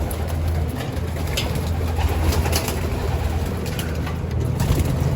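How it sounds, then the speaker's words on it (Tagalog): Pigeons coo steadily in a loft, a continuous low, rumbling murmur of many birds close by with no talk over it. "Mapapalabasin ko lang mga kalapatids."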